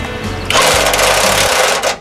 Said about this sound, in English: Just going to go ahead and remove the hood bolts here.